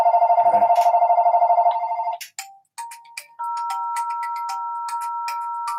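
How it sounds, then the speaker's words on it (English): A phone rings in rapid repeating bursts, loud and close, then cuts off and gives way to clicks and short electronic tones. "I can't hear you over that fucking ring."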